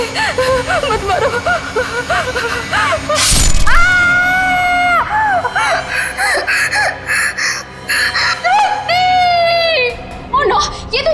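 A woman screams and cries out in distress in a crime drama scene, with a sharp crash partway through and frantic voices around her.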